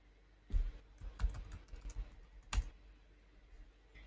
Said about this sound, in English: you can just type or press shift insert